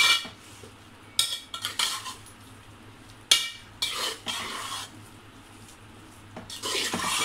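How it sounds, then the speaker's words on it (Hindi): Beef tikka with roasted crushed cumin and turmeric being stirred and mixed in a bowl, loud scraping swipes and clinks of a utensil coming in irregular bursts with quiet pauses, no talking. "अच्छे से मिक्स करते जाएंगे ताकि जो कचरी है वो हमारी सब जगह पे अच्छे से मिक्स हो जाए"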